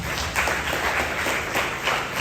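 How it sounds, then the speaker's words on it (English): Audience applause at a gathering, a steady dense wash of clapping with no clear gaps, moderately loud throughout. "Can you give yourself a round of applause for that?"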